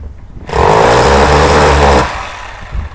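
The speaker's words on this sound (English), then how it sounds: "I'm going to use my hammer drill to vibrate it in the absence of a real concrete vibrator." Hammer drill pressed against a bonsai pot mold to vibrate wet cement, a loud steady buzzing rattle that starts abruptly, holds for about a second and a half, then cuts off, leaving a quieter background.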